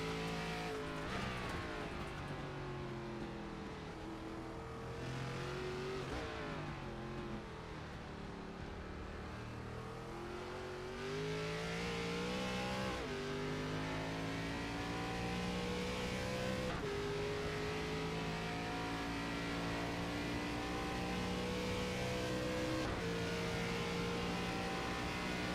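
Race cars lapping Road Atlanta in a sim-racing game, engines rising and falling through gear changes, with tire squeal, loud and continuous throughout.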